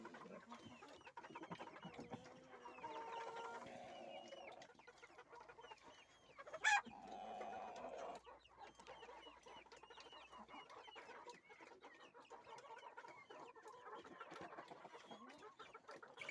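A young black hen clucks at a farm during evening feeding, with a steady run of soft clucks, a brief louder squawk midway, and other fowl calling nearby.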